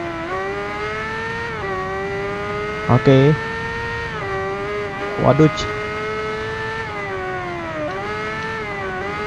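A 2015 Kawasaki Ninja ZX10R on its stock exhaust holds a steady engine drone, rising twice into short, sharp revs, while a rider talks over it.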